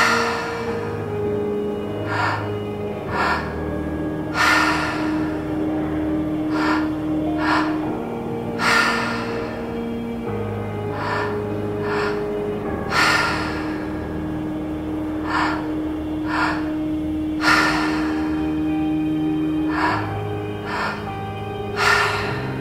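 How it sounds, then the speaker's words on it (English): A guided deep breathing exercise: slow, audible inhales and exhales repeating in a steady rhythm, close and clear over a soft sustained background drone. "I'm gonna breathe with you for a couple of rounds."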